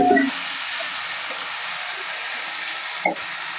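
Cut potatoes and green chilli fry in a pan for aloo posto, giving a steady, close, hissing sizzle throughout, with a brief clatter at the start and a small knock near the end, no talk.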